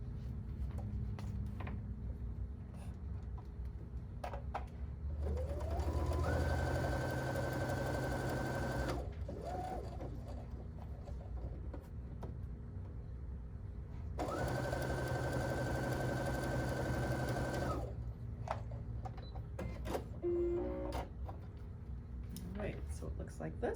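A domestic sewing machine stitching fabric along the straight of grain for a quilt sampler block, running in two steady whirring bursts of a few seconds each, with quieter handling sounds between them.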